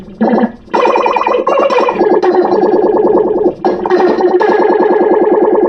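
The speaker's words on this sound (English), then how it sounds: "let's add in some distortion here" An electric guitar runs through a WingmanFX Danger Zone pedal with distortion engaged, producing loud, sustained, gritty chords with a wavering chorus-like shimmer, played in a few long phrases with brief gaps.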